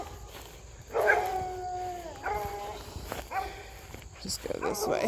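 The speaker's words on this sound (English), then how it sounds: "Those dogs are not happy." Dogs at a house beside a wooded green space bark and howl at a distance, drawn-out tonal howls rising and falling in two or three bursts, heard over footsteps and outdoor ambience on a walk.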